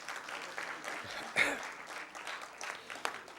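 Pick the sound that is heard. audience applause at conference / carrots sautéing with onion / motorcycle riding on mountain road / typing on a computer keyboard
audience applause at conference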